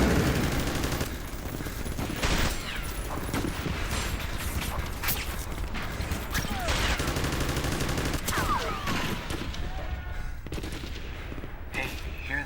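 A heavy M1 Abrams tank firing in an early action game demo, booming shots within a busy barrage of machine-gun fire and crashes, while people talk over the din.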